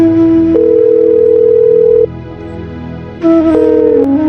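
Telephone line tone while a call is placed, two long steady electronic tones separated by a quieter gap, loud and close with no voices.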